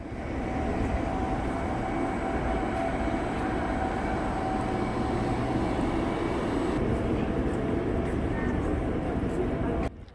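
Train pulling into Donghae station on the Korean east coast, a steady loud rumble of wheels and carriage noise running throughout, with an onboard arrival announcement-like voice faintly present beneath.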